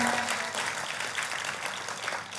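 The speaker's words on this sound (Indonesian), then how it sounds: "Kasih tepuk tangannya yang meriah buat Tuhan kita." A church congregation claps together in steady, dense applause, a continuous wash of hand claps that fills the room with no voice on top.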